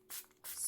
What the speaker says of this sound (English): spray your paint before you paint